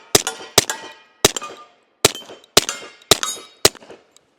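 Suppressed Nighthawk Custom Colt M45A1 pistol firing seven sharp shots at an uneven pace, each a crisp metallic crack with a short ringing tail, close and loud with quiet gaps between.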